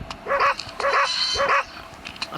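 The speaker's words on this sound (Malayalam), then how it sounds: "ഇതൊരു പട്ടി." A dog in the horror video game Endless Nightmare barks three times in an even rhythm, each bark loud and close, with quiet pauses between them and a brief pause after the last.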